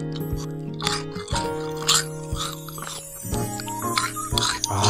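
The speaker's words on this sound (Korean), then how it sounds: "바삭바삭한 소리가 들리죠?" Crisp, loud crunching of Binggrae Kkotgerang Bul-jjamppong, a light, airy crab-shaped fried snack, bitten and chewed close up in a quick irregular series of sharp crackles.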